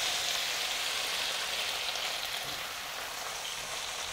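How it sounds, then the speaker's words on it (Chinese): Mushroom soaking water is poured into sacha sauce frying with oyster sauce and rice wine, and the hot pan gives a broad, even hiss of sizzling that stays loud and steady throughout. "沙茶酱炒香了，加入一汤匙的蚝油和一汤匙的米酒。 香菇水倒进来"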